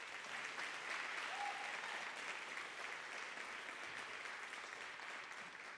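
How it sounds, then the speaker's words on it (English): Audience at a university concert choir spring concert applauding steadily for the accompanist, percussionist and booth crew, a soft, even wash of clapping from a hall, heard at a distance and fairly faint. "A round of applause for them,"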